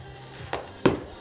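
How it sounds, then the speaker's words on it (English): Fireworks go off at a high school football game, with two sharp bursts about a third of a second apart, the second louder, over a low background rumble. "We'll shift back as you hear the fireworks behind me."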